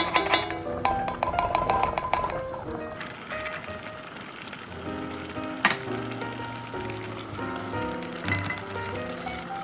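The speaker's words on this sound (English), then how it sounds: "Bring that to a boil, reduce the sauce here." Braised short rib sauce boils and reduces in a pan with a steady, close sizzle and bubbling crackle, under a light background of kitchen clinks and musical tones.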